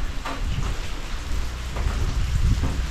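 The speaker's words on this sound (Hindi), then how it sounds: "यहाँ पे जैसा कि बारिश थोड़ी तेज़ होने लगी है" Heavy rain pours steadily outside a hotel room, a dense close hiss of drops hitting surfaces with low rumbling underneath and no voices.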